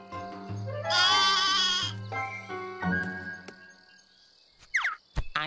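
Loud, close sheep bleats, two long wavering calls in a row, followed by a few short squeaky chirps.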